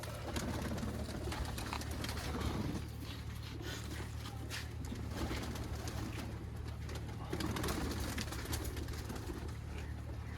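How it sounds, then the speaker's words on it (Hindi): Sialkoti pigeons coo in a loft, soft repeated throaty calls over a steady low hum and constant background noise. "ये सियालकोटी कबूतर है"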